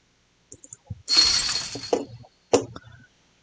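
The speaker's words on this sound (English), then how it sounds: "So it's very interesting to hear the fence noise." Fence building in the Planet Zoo game, a few soft clicks followed by a glassy crashing clatter that trails off, then a second short crunch, all fairly near and alone.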